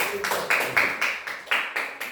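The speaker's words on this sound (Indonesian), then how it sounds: "Iya, tepuk tangan untuk Rensi." Short rhythmic clapping from a primary school class, a handful of sharp, evenly spaced claps in unison, close and fairly loud, with faint room sound between beats.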